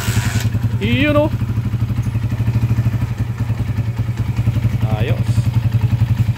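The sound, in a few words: overhauled motorcycle engine starting and running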